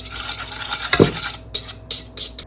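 Salad dressing ingredients with thyme stirred in a bowl before the oil goes in, a steady scraping swirl with one louder clink near the middle and a few sharper taps toward the end.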